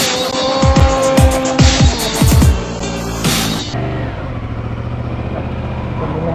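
A 2021 Yamaha MT-07 motorcycle on a break-in ride in Stockholm, its engine revving up through several rising sweeps close by, then settling to a steady lower drone, with no talking.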